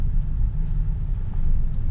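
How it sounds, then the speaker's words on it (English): Steady low engine drone and road rumble inside a Maruti Suzuki XL6 (2020 BS-6, Alpha variant) while driving, continuous and even for the whole stretch with no talking over it. "Engine gives a sporty feeling, sporty noise"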